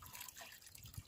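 Quiet trickle and dribble of well water overflowing from a pipe onto the ground, soft irregular splashing with a louder splash at the end.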